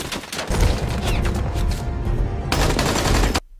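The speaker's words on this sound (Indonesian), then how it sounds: "Zuni yang ditugaskan berjaga di luar terlibat baku tembak dengan para musuh" A film shootout erupts in dense, loud gunfire: rapid overlapping shots and bursts run continuously, break briefly, then resume at full force before cutting off abruptly.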